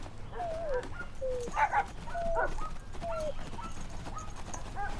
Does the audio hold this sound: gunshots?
no